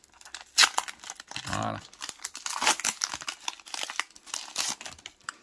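A Pokémon Règne de glace booster pack is torn open close up, its foil crinkling and ripping in bursts and one longer tear, while someone briefly speaks.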